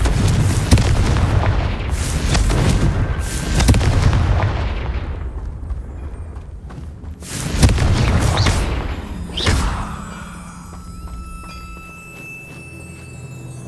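Fiery Confringo spell blasts go off in Hogwarts Legacy as a dark-wizard Slytherin character fights: deep booming explosions with rumbling tails, a couple of big bursts and a sharp crack near the end, loud and close.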